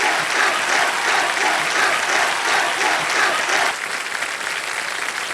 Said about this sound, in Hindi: जोरदार तालियां हमारे इन मालियों के लिए जो यहाँ पैसे कमाने के लिए आए हुए हैं